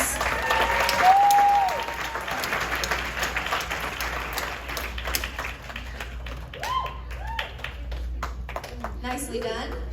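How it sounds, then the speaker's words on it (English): Audience applause for a contestant at a horror fan convention contest, a dense burst of clapping that is loudest early on and then thins out, with voices speaking over it. "One more round of applause for Jess."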